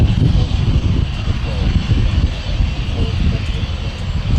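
North American Rockwell OV-10 Bronco turboprop running at an air festival before a short takeoff, a loud, steady engine roar with a commentator's voice over it.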